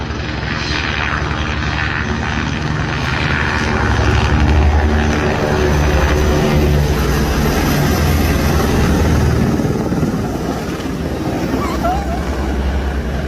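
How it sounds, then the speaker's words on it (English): Aircraft taxiing past at Sacramento Executive Airport on its way to the hangar, a steady loud engine and propeller drone that swells toward the middle and stays close throughout, with people talking over it. "this aircraft passed by on its way to the hangar"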